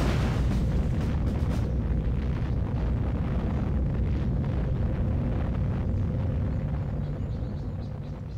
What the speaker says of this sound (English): Nuclear missile. And launch.